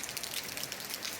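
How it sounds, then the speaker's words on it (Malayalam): Sudden rain pours down during a cycling ride, a dense, even hiss of drops hitting surfaces, close and continuous, with no voices. "പെട്ടെന്നാണ് മഴ ചെയ്തത്."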